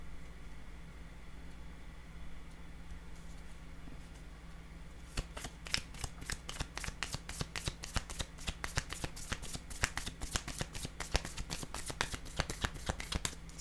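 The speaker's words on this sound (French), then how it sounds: "Je vais déposer une carte sur cette femme." Playing cards are shuffled and handled during a tarot-style card reading, starting quiet and then breaking into a long run of rapid, crisp riffling clicks that continue to the end.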